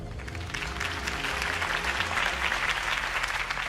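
Steady, dense applause from a crowd greeting a political campaign speech in the Batman Telltale video game, loud and sustained throughout with no talking over it.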